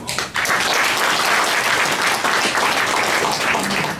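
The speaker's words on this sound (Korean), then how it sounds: "박수 좀 주시죠." Audience applause at a county residents' town meeting, a loud, dense and steady burst of clapping that fills the room from just after the start to the end.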